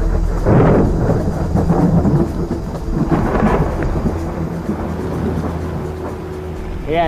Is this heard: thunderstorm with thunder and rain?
yes